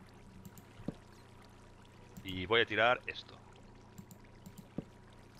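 Water pours in a short, loud gush lasting about a second in Minecraft as buckets are filled, while someone talks in Spanish over it.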